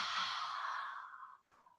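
One long forceful exhale through the nose, a breathy rushing sigh that fades out and ends in a short puff, heard close and alone during a yoga fire-breath practice.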